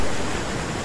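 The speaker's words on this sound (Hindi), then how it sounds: "भाई पानी का बहाव बहुत ज्यादा है।" Fast-flowing river water rushes in a dense, steady roar that fills the whole short moment, loud and close with no break or other sound.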